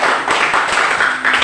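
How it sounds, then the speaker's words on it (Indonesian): Brief burst of classroom clapping for a student, a loud, close, blurred wash of many hands with no talk over it. "Tepuk tangan untuk Delina."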